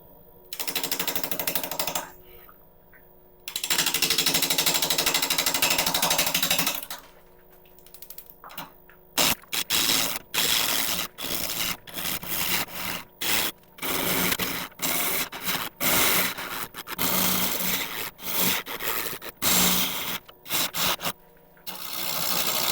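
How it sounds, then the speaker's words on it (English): A woodturning lathe spinning a monkey puzzle log at about 700 RPM while a half-inch ball gouge cuts, giving long roaring cutting passes broken by pauses and then rapid intermittent bursts of chattering as the gouge meets the knobbly surface. "initially turning at about 700 RPM and we're starting off by aiming for the"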